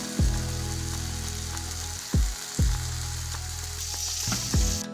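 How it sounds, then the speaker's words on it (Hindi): Chicken cubes fry in hot cooking oil in a wok over medium heat, giving a steady crackling sizzle broken by several sharp clanks of a spoon against the metal, close and moderately loud, with no talking. "अब इसमें चिकन क्यूब्स डालकर दरमियानी आंच पर अच्छी तरह भूनें।"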